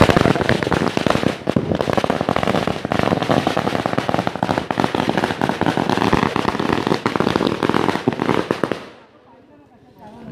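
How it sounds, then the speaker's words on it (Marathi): A long, dense string of firecrackers bursts loudly and rapidly during a Ram Navami palanquin procession in a Konkan village, with voices mixed in, then cuts to near silence for the last second or so. "इकडे फटाके पण लावलेत."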